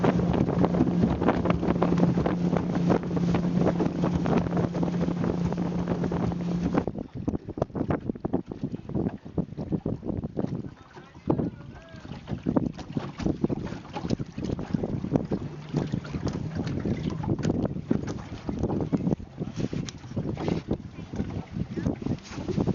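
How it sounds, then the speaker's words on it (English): A boat motor drones steadily across the water near Moosonee, Ontario, while strong wind buffets the microphone, with faint voices now and then. "we decided to hop back on the boat and take it back over to Moosonee"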